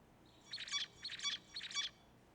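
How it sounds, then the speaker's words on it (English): Three identical bursts of bright, buzzy zebra finch song play back in an even rhythm, crisp and close over faint background hiss. "this is how the zebra finches sing"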